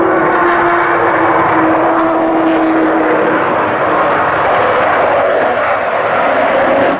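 Aircraft engine noise from an Avro Vulcan bomber: a loud sustained roar holding a steady whining howl tone, continuous with no talk.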